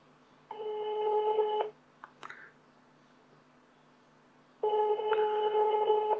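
A GSM alarm module with a NEOWAY M590 board rings after being dialed: two long electronic ringback tones about a second each, separated by a quiet gap with a couple of small clicks.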